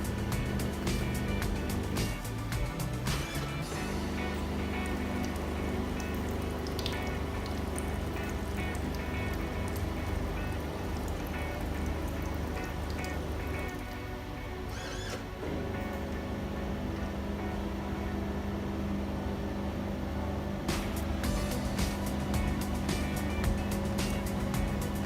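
Dr Coffee automatic coffee machine rinsing with water, a steady hum of pumping and flowing water with dripping and gurgling, continuous and close, alone without voices.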